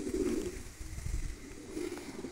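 Pigeons coo in low, rolling phrases near a loft where the flock has returned, with a steady bed of soft cooing throughout and no talk.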